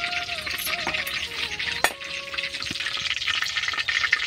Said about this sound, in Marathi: असं तेल तापून देत जायचं कडकड कडकड, मग चांगलं तळत असते